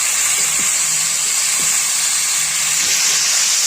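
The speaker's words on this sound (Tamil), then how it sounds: "இந்த தக்காளி எண்ணெயிலே நல்லா வதக்கி வரணும்." Tomatoes sautéing in hot oil for a Tamil tomato thokku, a loud, steady, close sizzling hiss that runs unbroken throughout, with faint stirring knocks underneath and no talking.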